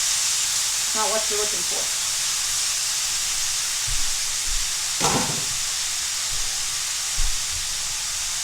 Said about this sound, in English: You're just going to fry your meat until it's done.